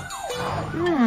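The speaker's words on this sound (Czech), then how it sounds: "To je siréna robotické Matildy." A brief warbling cartoon siren of a robot sweeps up and down in pitch, fairly loud, over a busy background.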